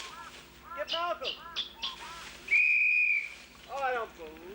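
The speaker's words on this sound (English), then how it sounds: "Play the whistle again!" A whistle is blown outdoors in the bush, giving a sustained high tone of about a second, surrounded by chirpy bird-like calls and excited speech.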